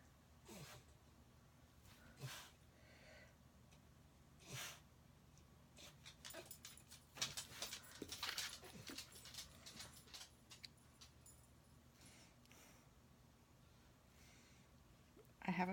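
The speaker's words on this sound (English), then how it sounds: "he's in here kind of whining to me" A pet dog indoors whimpers and whines in short, soft, scattered bursts, faint and close, with occasional snorts and a voice talking at times.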